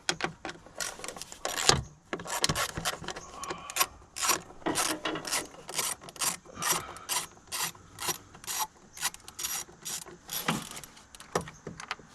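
A 10 mm socket wrench on a radiator screw of a 2019 GMC Sierra 6.2 gives a run of quick ratcheting clicks and rasping turns in bursts, close up with no talk.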